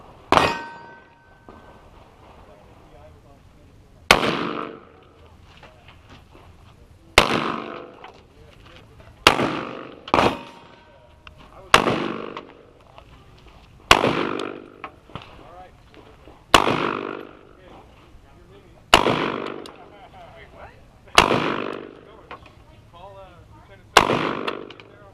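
An AR-15 rifle fires about a dozen sharp, loud shots at a target outdoors, spaced a couple of seconds apart, each crack ringing off with a metallic clang and a brief decay.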